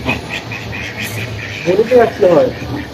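Ducks quack in short nasal bursts, several calls close by, as they gather expecting to be fed, with a person's voice heard faintly in the background.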